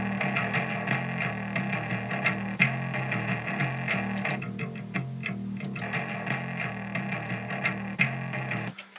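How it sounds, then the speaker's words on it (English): A distortion track from a music mix plays on its own, a dense, saturated tone with a steady low throbbing bass pattern and scattered bright accents, sustained and fairly loud throughout. "we also have this distortion track."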